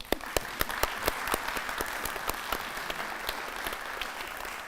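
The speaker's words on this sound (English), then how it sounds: "let's give our graduates just one more round of applause" An audience at a college School of Education pinning ceremony gives graduates a round of applause, with dense, sustained clapping from a crowd and a few sharp, louder claps standing out near the front throughout.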